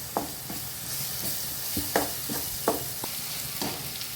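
Ginger frying in a pan as the base for a fish curry, a steady close sizzle broken by a spatula scraping and knocking at irregular intervals, with no voices.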